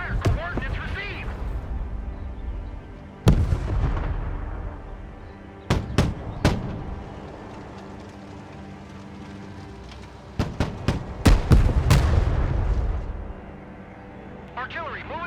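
Artillery fire in the war video game Broken Arrow: a steady engine-like drone broken by sharp, loud cannon blasts, one near four seconds, a pair around six, then a rapid cluster of shots between ten and twelve seconds.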